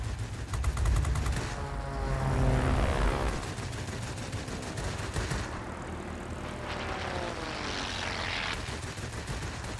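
A World of Warplanes fighter dives, its engine roaring loud and steady with rising and falling pitch sweeps, mixed with bursts of machine-gun fire in the game.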